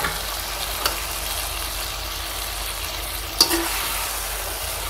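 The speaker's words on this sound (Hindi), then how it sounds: "अब हम इसमें ये जो बैंगन है इसको डाल रहे हैं।" Eggplant pieces stirred and frying in a tomato-onion gravy, giving a steady soft sizzle with a couple of brief clatters of the utensil against the pan.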